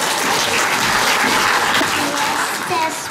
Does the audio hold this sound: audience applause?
yes